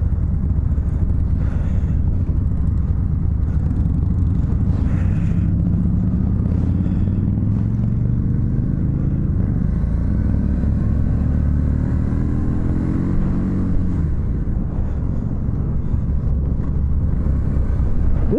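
A Harley-Davidson Street Rod motorcycle ridden on the road, its engine droning loudly and steadily with rising and falling revs as gears change, heavily mixed with wind rush.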